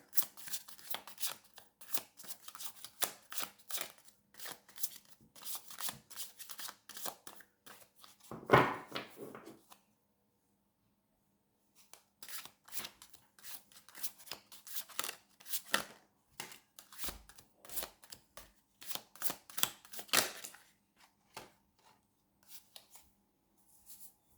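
Tarot cards shuffled and drawn by hand, close riffling and sliding bursts in two long runs separated by a short quiet pause, with crisp flicks and taps as individual cards are pulled and laid down.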